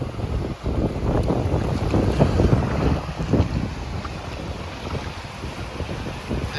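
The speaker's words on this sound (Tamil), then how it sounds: "ஆமாம், ரொம்ப காற்றா இருக்குது." Strong wind buffets the microphone at a beach on the Arabian Sea, a loud, gusty roar rising and falling steadily with faint surf beneath it.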